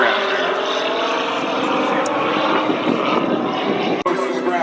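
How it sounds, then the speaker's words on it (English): A propeller airplane whips around in aerobatic maneuvers at the Arctic Thunder airshow, its engine droning loud and steady with shifting pitch as it turns, while an announcer talks over it throughout. "He's giving us a little airplane celebration as he whips it around"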